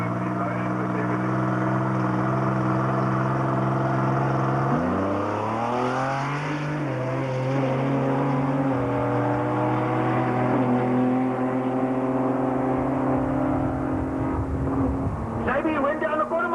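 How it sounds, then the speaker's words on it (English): Datsun 1200 street legal drag car racing down the quarter mile, engine note climbing through gears with a shift partway, loud and sustained, with a commentator talking over it. "Yeah, this car is moving in motion with everything."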